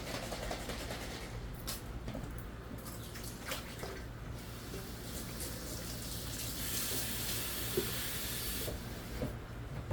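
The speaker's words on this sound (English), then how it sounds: "so I'll rinse this out because I save all of my mayonnaise jars" Water runs steadily from a tap into a mayonnaise jar as it is rinsed out, a continuous close hiss and splash with brief clinks, growing a little brighter and fuller toward the end.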